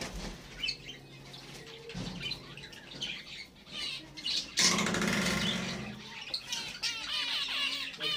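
Pet birds drink at close range, letting out scattered chirps and squawks, with bursts of wing flapping partway through, fairly soft and without talk.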